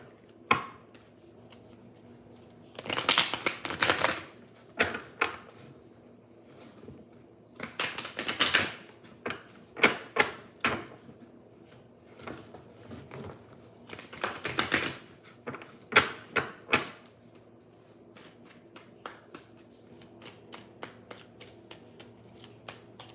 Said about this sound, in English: Say stop when you're ready for me to stop shuffling.